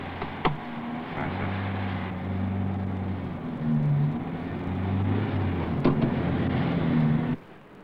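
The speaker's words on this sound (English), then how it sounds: "Not too much acceleration, and gently with the clutch." A car on a 1980 UK driving test pulls away and accelerates, its engine hum and gear-changing whine rising and falling steadily from inside the cabin before cutting off.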